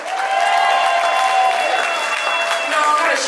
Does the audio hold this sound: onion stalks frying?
no